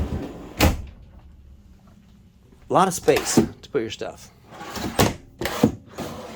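Drawers open and close inside a 2011 Tiffin Allegro Bus 43QGP motorhome, giving a few sharp wooden knocks and slides close by, mixed in with someone talking.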